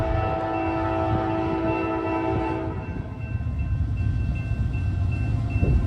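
A CSX freight train led by locomotives 439 and 3415 passes close by, its horn blaring for about three seconds before giving way to a rumbling, clattering roll of cars.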